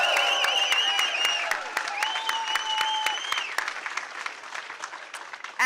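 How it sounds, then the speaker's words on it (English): Crowd applause at a Pennsylvania Senate campaign get-out-the-vote rally, steady clapping under excited voices and cheering that fades toward the end. "Let's give them a round of applause."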